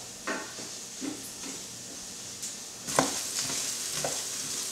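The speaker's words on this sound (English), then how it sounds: "So basically you're toasting the risotto with the onions, probably for about another 2 to 3 minutes" Risotto rice and onions toast in a pan, a soft steady sizzle broken by several scraping stirs and light knocks of the spoon, quiet and close with no talk.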